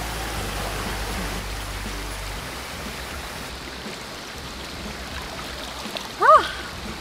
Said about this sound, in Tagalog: ang lakas ng tunog ng tubig